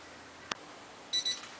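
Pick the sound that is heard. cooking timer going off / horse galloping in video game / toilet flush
cooking timer going off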